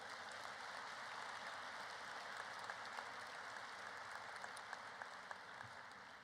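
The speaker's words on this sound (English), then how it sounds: "just a round of applause for all those parties yesterday putting that together" Faint, distant applause rises from the audience at a Class of 2025 graduation ceremony, a steady, even patter of many hands clapping without talk.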